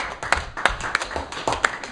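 A small audience claps after a vacuum science demonstration, a short burst of uneven, moderately loud hand claps with a few distinct sharper claps.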